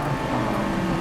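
A Scion race car with a swapped LS V8 engine roars steadily at close range, a deep, rough drone with no break across the short moment.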